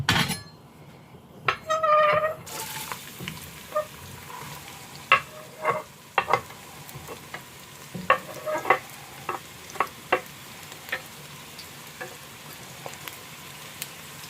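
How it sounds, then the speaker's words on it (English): Onions drop into hot oil and sizzle in a pan, a loud burst at first, then a quieter steady fry punctuated by repeated scraping and stirring clinks of a utensil against the pan. "our oil is nice and hot, ready for us to put our onions in there"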